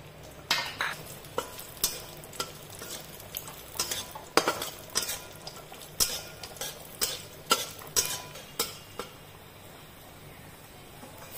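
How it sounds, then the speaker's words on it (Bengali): Cashews and raisins fry in hot ghee for bhog khichuri, a soft sizzle under a steady series of sharp spoon clinks and scrapes against the pan, alone and fairly close. "ঘিটা গরম হয়ে গেছে, এখানে কিছু কাজু কিশমিশ আমি ভেজে নিচ্ছি।"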